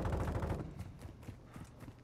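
Gunfire in the Call of Duty: Modern Warfare II video game: a rapid burst of heavy shots at the start, then scattered lighter cracks and thuds, close and fairly loud.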